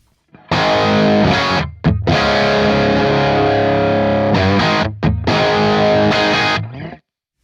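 Electric guitar through a high-gain amp with a crunchy, Marshall-like distorted tone, strummed as loud sustained chords with two brief breaks before the final chord cuts off.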